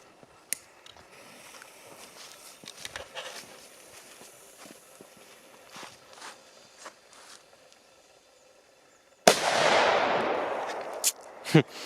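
Quiet shuffling and scattered small clicks, then a sudden loud burst of rapid crackling explosions from a P2000 firecracker, dense and sustained for a couple of seconds.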